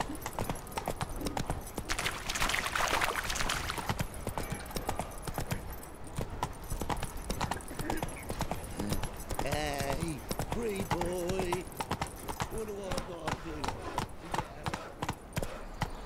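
Horse hooves clip-clopping in The Witcher 3 video game, a steady rhythmic patter of hoofbeats running throughout beneath game music and in-game character voices.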